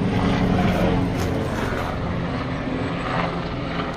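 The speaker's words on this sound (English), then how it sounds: "Let this helicopter go by." A helicopter passes overhead outdoors, a loud, steady rotor and engine rumble that fills the whole stretch and fades only slightly toward the end.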